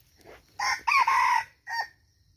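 Wild jungle fowl caught in a trap crows loudly nearby, a hoarse cock-a-doodle-doo in two close bursts followed by a shorter third call, with faint rustling between.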